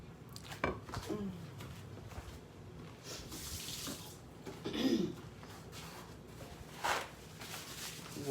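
Tap water runs quietly over a finger at a kitchen sink, a soft steady flow with a few splashes and clinks.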